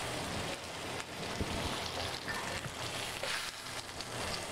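Lamb chops fry in hot oil with whole sprigs of fresh thyme and rosemary and cloves of garlic. A dense, continuous sizzle with crackling pops runs close and steady throughout, and no one speaks.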